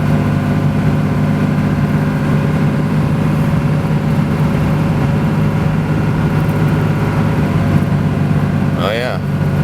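Dodge Ram 2500 pickup cruising at about 40 mph, a steady low engine drone heard from inside the cab, with a brief faint sweeping tone near the end and no clear gear shift.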